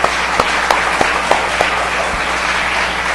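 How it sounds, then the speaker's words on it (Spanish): A church congregation applauds during a Spanish-language worship service, a steady wash of clapping at moderate level with a few sharper accents standing out from the crowd noise. "Denle un aplauso al Dios del cielo."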